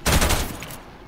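A short, loud burst of rapid gunfire in the video game Farlight 84, fading quickly into a noisy tail, with no talking.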